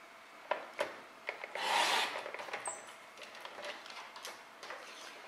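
Paper is cut for a handmade scrapbook album, heard as quiet scraping and rasping strokes with a longer swishing pass near the start, scattered light clicks and taps, and no talking.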